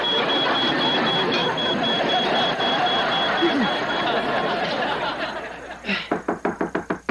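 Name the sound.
smoke alarm beeping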